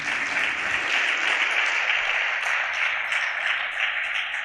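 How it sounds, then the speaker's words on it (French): Steady, dense applause from an audience at an evening gathering, a thick even wash of many hands clapping throughout. "Je vous demande tout simplement de les applaudir."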